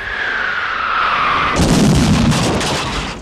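A warning cannon shot from a revolutionary-era artillery piece booms loud and close, with a whistling rise beforehand and then a broad, roaring blast that lingers to the end.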